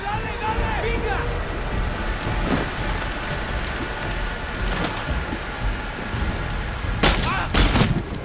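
A firefight in Far Cry 6 with bursts of gunfire and crackling shots over a constant noisy battle din, sharpest and loudest near the end.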